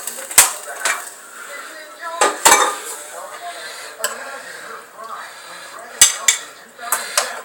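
Crab pieces dropped into a metal soup pot for a mussel, crab and tilapia soup, giving several sharp clanks and knocks with softer scraping and rattling between them, close and moderately loud.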